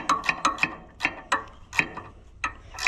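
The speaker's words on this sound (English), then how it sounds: "Now it's so loose it won't let the ratchet work" A ratchet wrench clicks in short, uneven bursts while working on the axle of an Allis Chalmers 175 tractor, crisp metallic pawl ticks close to the microphone with quiet gaps between strokes.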